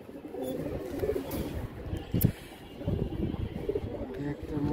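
Several pigeons of a domestic fancy breed coo close by in soft, throaty, repeating rolls, with a faint chirp and light handling noise mixed in.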